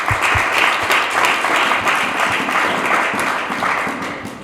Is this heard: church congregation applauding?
yes